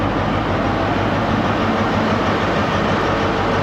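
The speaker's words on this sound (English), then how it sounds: "So this is our train down into Cornwall." A loud, steady rumble of an HST diesel high-speed train bound for Cornwall fills the whole stretch, a dense broadband roar with deep engine tones underneath and no talking.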